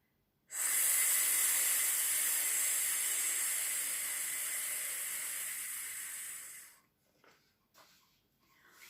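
A voice imitates a hissing snake with one long, steady sss held for about six seconds, close and loud, then it cuts off into faint room noise.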